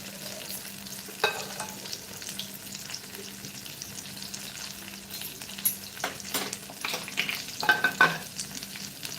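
Bombay duck fish (bombil) frying in a pan, a steady sizzle with scattered crackles and pops that grow busier toward the end, no talking.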